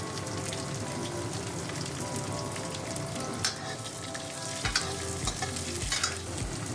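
Garlic and green chillies frying in a pan, a dense steady sizzle with stirring scrapes and a few sharper clatters near the end, close and loud throughout with no talk.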